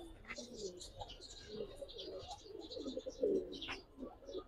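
A pair of Nazra Chuithal pigeons coo softly and repeatedly close by, the low throaty calls rising and falling at an uneven rhythm with faint chirps and a voice around them.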